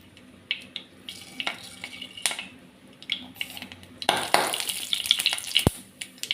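Half a teaspoon of mustard seeds splutters in hot oil in a pan, scattered sharp pops and crackles that grow denser midway, with occasional utensil clinks nearby.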